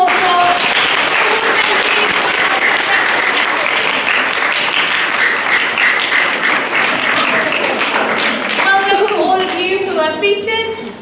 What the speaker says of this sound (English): Can we give Mr. Price a big round of applause for